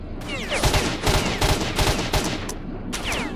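Loud, repeated bursts of gunfire from S.T.A.L.K.E.R.: Shadow of Chernobyl, a string of sharp shots in quick succession with short gaps, near and dominant with no talk over it.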